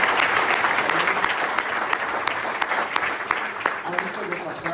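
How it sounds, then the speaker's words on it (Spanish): Steady applause from a church congregation during a service, dense and sustained for several seconds, with sharper claps poking through the wash. "Démosle un aplauso al Señor"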